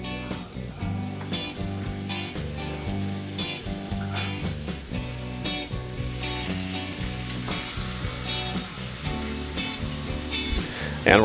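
Butter sizzles in a hot pan before steaks are seared, a steady close hiss layered over background music, with a louder crackle rising at the very end.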